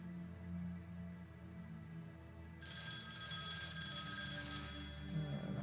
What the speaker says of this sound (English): Phone's gonna ring right out the gate.